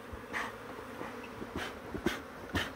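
A swarm of bees buzzes with a steady droning hum close by, while individual insects zip past the microphone in brief louder swells.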